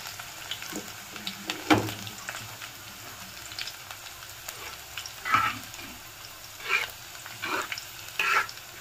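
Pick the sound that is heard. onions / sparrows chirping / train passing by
onions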